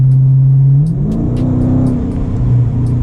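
A 2023 Dodge Challenger Widebody Shaker Scat Pack with the 392 V8 revs loudly and close by, its steady drone climbing and shifting pitch as the throttle opens, with no talking.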